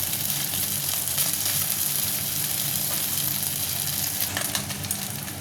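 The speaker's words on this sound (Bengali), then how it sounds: "মাছটা প্রায় ভাজা হয়ে গেছে" Small maula fish frying in oil, a dense, loud, steady sizzle and crackle running throughout with light occasional stirring, close up and without talk.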